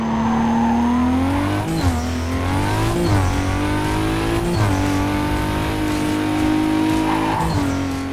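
A car in the racing video game Need for Speed Carbon accelerates and turns: a loud, continuous engine drone that climbs in pitch with each gear shift, dips briefly between shifts, and carries faint tire squeal.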